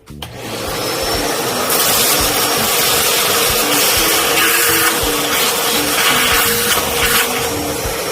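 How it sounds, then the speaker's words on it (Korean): A vacuum cleaner sucks leftover coffee beans out of a Fiorenzato F64E espresso grinder, starting abruptly and then holding a loud, steady whooshing hum throughout. "청소기를 이용해서 위에 있는 원두를 제거 후에 칼날 분해를 할 겁니다"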